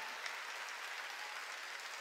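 A church congregation claps together during a worship service, a steady, dense patter of many hands filling the room at moderate volume without pause.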